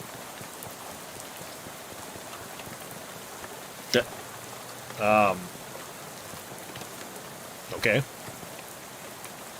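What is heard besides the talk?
rain in video game Shadows Over Loathing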